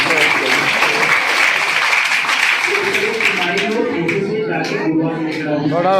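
Loud, sustained applause from a school audience at a motivational seminar, dense clapping filling the hall throughout, with voices and a few shouts mixed in toward the end.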